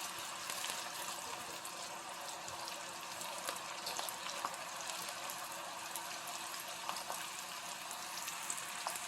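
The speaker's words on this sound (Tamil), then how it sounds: "பக்கோடாவை அப்படியே போட்டுடலாம்" Onion pakoda fritters fry in hot oil, giving a continuous faint crackling sizzle with scattered pops and no talking.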